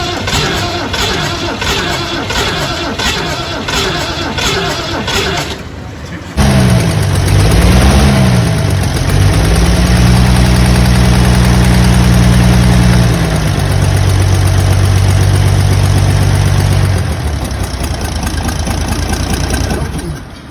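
An old tractor engine turns over and fires on a cold start, then settles into a loud, steady mid-pitched idle with a slight waver, heard close up without talk.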